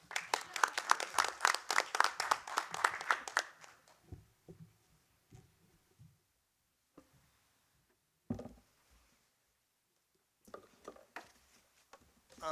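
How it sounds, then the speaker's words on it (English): A round of applause at a borough council meeting, as a small group claps steadily for about four seconds before stopping; afterward only faint room noise, a brief bump and a few scattered sounds remain. "Round of applause for Italian American."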